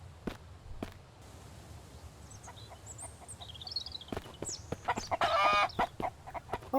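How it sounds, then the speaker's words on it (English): A chicken in the video game Mist Survival clucks in short bursts amid quiet ambience, with a louder, higher squawk near the end. "Yeah, I see you, chicken."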